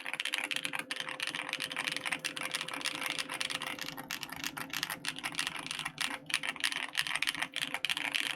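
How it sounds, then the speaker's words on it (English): A custom Trigon mechanical keyboard is typed on steadily and close up, giving a dense run of crisp key clicks and clacks with no talking. "listen to how beautiful this keyboard sounds as well. Let's do a sound test"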